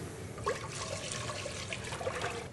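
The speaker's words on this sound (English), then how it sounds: "So I want to combine in a pot my lemon juice and my champagne." Lemon juice and champagne pour into a cooking pot, giving a steady liquid splash and trickle that runs close and fairly quiet for a couple of seconds, with no voices.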